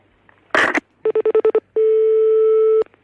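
Telephone tones as a phone call is placed: a short burst of noise, then a quick run of six evenly spaced beeps, followed by a single long steady tone, loud and clean with no voices.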